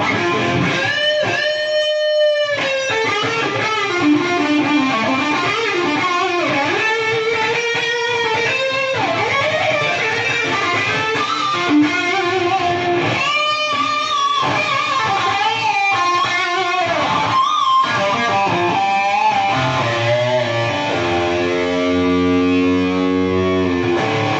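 A distorted electric guitar on the neck pickup, played through a Bugera 333XL Infinium 120-watt three-channel tube amp with reverb, plays chords and lead lines with a warm, rounded tone, continuous and loud, ending on a sustained ringing note.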